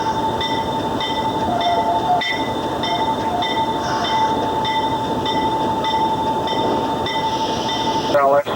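Railfanning footage of a train passing close by, with steady rumbling and rolling wheels, a sustained tonal whine and high-pitched squeals, loud throughout and with no talk.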